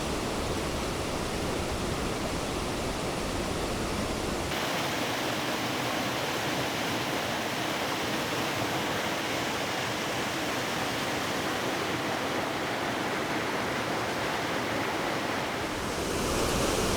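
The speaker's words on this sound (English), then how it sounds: "This fall is right along the road here" Roadside waterfall pours in a steady, loud broadband rush that fills the whole stretch, with no voices and only a slight shift in tone partway through and near the end.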